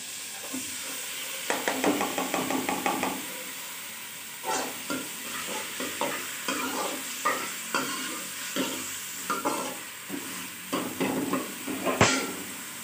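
Onions frying until brown for brinjal bharta, a soft continuous sizzle with repeated scraping stirs at an uneven rhythm and one sharp clink near the end, heard close with no talk.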